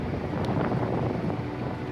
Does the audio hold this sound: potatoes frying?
no